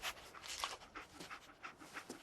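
Dogmeat, the dog companion in the video game Fallout 4, panting quickly and softly, a rhythmic breathy huffing heard close but faint.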